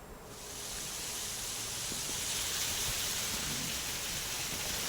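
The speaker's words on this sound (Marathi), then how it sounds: "महाराष्ट्रामध्ये गेल्या अठ्ठेचाळीस तासांपासून विविध भागामध्ये जोरदार पाऊस बरसतोय" Heavy monsoon rain falls in Maharashtra as a dense, even hiss that swells in over the first moments and then holds loud and steady without any voices.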